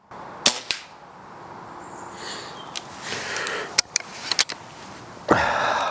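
A spring-powered air rifle fires, giving a few sharp, crisp cracks and clicks at close range against a quiet background, with a brief rushing burst near the end.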